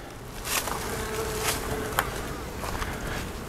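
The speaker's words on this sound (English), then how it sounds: "The bees are being real calm, so it's a good time to do this." A swarm of honey bees hums in a dense, continuous buzz during a hive removal, with individual bees zipping close by in brief louder passes.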